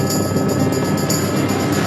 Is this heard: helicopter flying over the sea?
yes